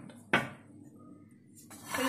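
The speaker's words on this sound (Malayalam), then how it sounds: "മീഡിയം ഫ്ലെയിമിൽ വെച്ച് ഒന്ന് വറുത്തെടുക്കുന്നുണ്ട്." Almonds dry-roasting over a medium flame in a pan are stirred, giving a sharp metallic clank followed by quieter scraping and a brief rattling stir near the end, fairly soft and with no talk.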